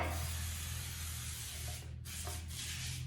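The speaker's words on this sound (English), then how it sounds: "Spray it real quick with some non-stick spray." A continuous aerosol hiss of non-stick cooking spray into a brownie pan sprays for about two seconds, then two shorter bursts follow, close and fairly quiet.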